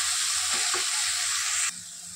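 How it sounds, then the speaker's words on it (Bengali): Tomatoes and onions fry in a pan with a loud, steady sizzle, broken by a few stirring clacks, before the hiss drops suddenly near the end. "টমেটো পেঁয়াজটা ভাজা হয়ে গেল"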